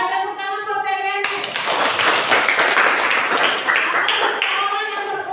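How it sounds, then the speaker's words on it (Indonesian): A class claps for a student named Kenneth after an abrupt start, a burst of brisk hand clapping from a roomful of people lasting several seconds, with a teacher's voice heard before it. "Tepuk tangan buat Kenneth."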